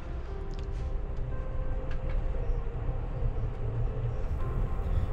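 An Amtrak Coast Starlight passenger train rolls through Oregon's Willamette Valley, a continuous low rumble of wheels on track with a steady droning hum and faint rattles, heard from inside the car.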